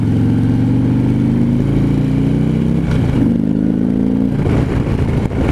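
Stock-piped 2015 Harley-Davidson Street Glide engine heard close, a deep throbbing rumble that rises and falls through revs, with a brief dip midway.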